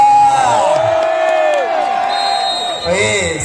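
GVC Wonosri supporters cheer, whoop and yell loudly at a Bina Muda Cup volleyball match, a sustained crowd roar with scattered clapping under an excited commentator's voice.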